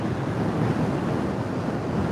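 Surf breaking along the Blackpool seafront, a dense unbroken roar of waves and wind rumbling against the microphone, close and loud throughout.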